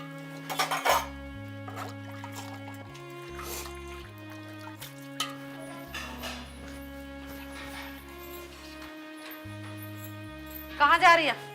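Metal pots and dishes are washed and scrubbed, with scattered clinks, scrapes and splashes of water heard beneath steady background music, and a louder clatter of metal near the end.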